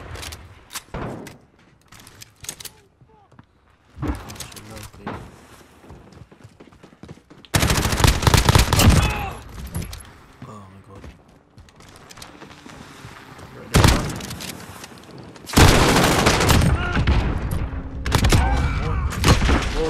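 Heavy automatic gunfire in the Modern Warfare video game, with loud, dense bursts and sustained rattling volleys that grow more intense in the second half, some scattered single shots, and no talking.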